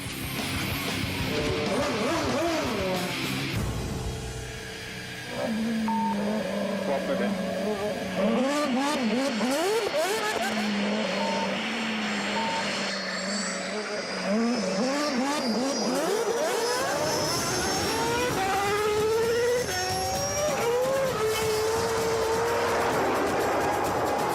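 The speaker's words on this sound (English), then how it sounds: "roll out his Red Bull Racing RB7 for a showdown of a different kind" A Red Bull Racing RB7 Formula One car runs in Argentina, its high engine whine rising and falling through repeated gear changes as it passes, loud throughout, with a short dip in the middle.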